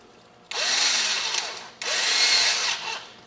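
A 7/32 drill bit bores through the mushroomed rivet head holding a Hot Wheels toy car together: two close, steady bursts of power-drill whine, each lasting over a second, with a short gap between them.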